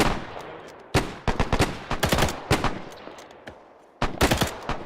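Dense gunfire in the Arma 3 British milsim set in WWII, with rapid bursts and single shots cracking loudly and close, pausing briefly before another volley near the end.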